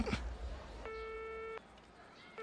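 A cut-off phone call ends in an electronic disconnect tone, a single steady beep lasting under a second, followed by a quiet pause and a faint hint of another tone starting.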